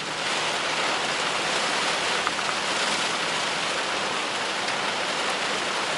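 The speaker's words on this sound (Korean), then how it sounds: "비가 새는 신발장" Rain leaks into a shoe cabinet during a downpour, a dense, even hiss of falling water and splatter that fills the whole stretch without a break.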